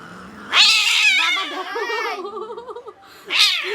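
A pet cat lets out a long, loud, wavering caterwaul that rises and falls, followed after a brief pause by another sharp yowl, close by.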